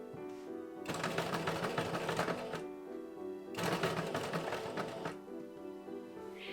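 A sewing machine stitches a waistband on cosplay bloomers in two rapid whirring bursts of about two seconds each, close and loud, with a quieter pause between them.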